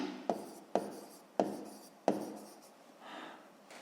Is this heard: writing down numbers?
yes